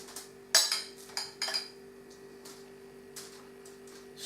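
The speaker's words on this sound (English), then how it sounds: "Okay, so we've got a spoon of our Bolognese sauce." A metal spoon clinks and scrapes against a dish while spreading Bolognese sauce over a chicken parma, a few sharp taps and scrapes early, then softer scraping, over a steady background hum.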